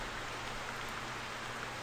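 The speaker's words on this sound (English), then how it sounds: "It's just been raining like crazy in here on this hunt." Rain pours steadily in the hunting video game theHunter, a constant dense hiss of falling drops with no breaks or variation.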